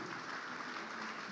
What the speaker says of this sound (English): Let's give Jesus a mighty hand clap.